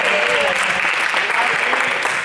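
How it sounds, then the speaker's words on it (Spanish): An audience breaks into sustained applause, a dense wash of clapping that stays loud and steady throughout, with a voice faintly heard beneath it. "Muchas gracias, un aplauso."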